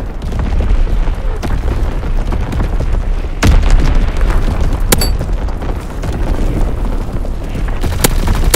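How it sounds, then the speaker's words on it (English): An enemy bomb blast in the Call of Duty WWII video game: loud, sustained booming rumble with sharp cracks of detonation and gunfire-like bursts layered throughout the battle din. "Enemy bomb incoming. Get to cover."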